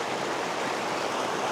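Stream water rushes steadily past a cliff face on a forest track, a constant broadband wash heard up close with no voices.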